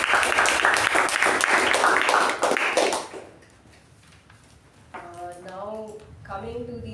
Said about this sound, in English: a huge round of applause for the speaker